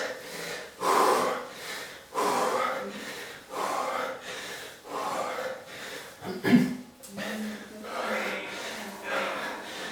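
Heavy breathing during a live cardio workout comes as a series of loud, rhythmic puffing exhales and sharp intakes roughly every second or two, mixed with a trainer talking in French.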